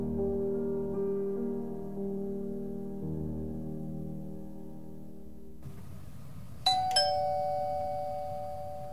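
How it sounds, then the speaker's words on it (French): A doorbell rings close by with a bright two-tone chime, ringing out after a stretch of low humming background and fading slowly. "Le son de cette sonnette vous semble probablement bien banal."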